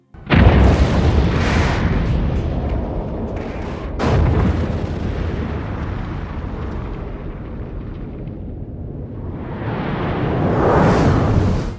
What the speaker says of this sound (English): The effect created for the explosion of the Klingon moon at the beginning of the film